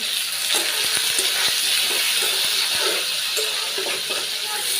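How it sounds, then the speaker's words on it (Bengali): Tomatoes frying lightly with a little salt in a pan in a Bangladeshi village kitchen make a continuous close sizzle broken by small stirring clicks. "টমেটোগুলো ফেলে দিই, হালকা একটু ভাজি করে নিই টমেটো।"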